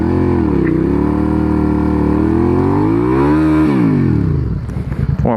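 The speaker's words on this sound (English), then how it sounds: "Let's do a little burnout." A motorcycle doing a burnout: the engine roars loud and steady, its pitch climbing and then dropping back before settling into a rougher, uneven rumble at the end, with no voices.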